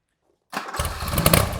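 A motorcycle engine cranks and catches quickly after a brief silence, then settles into a loud, steady running rumble close by.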